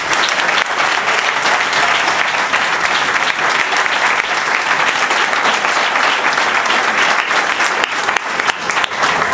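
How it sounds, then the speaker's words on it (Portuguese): A church congregation claps for the Lord during a fiery Pentecostal sermon. The applause is loud, dense and sustained, a continuous wash of many hands lasting over nine seconds without a break. "Dá uma salva de palmas para o Senhor."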